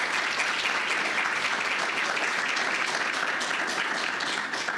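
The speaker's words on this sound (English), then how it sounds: "let's give them all a big round of applause and a big thank you" Audience at a conference applauding its guest speakers, a full, steady roar of many hands clapping at constant loudness with no talking over it.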